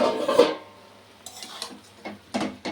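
Utensil scraping and clinking in a pot of spinach curry, palong shaaker ghonto, being stirred: a louder scrape at the start, then a quiet pause, then several short sharp clinks and scrapes close by.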